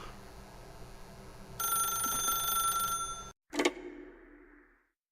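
A telephone rings once in the video game The Stanley Parable: a bright, steady electronic trill of about a second and a half, followed by a sharp click and a short fading rattle before silence.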